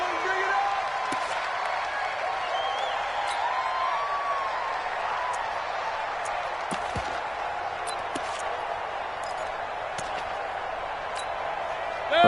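Steady stadium crowd roar from a Madden 20 football game on PS4, a continuous broad wash of cheering that carries through the whole stretch, with play-by-play commentary over it.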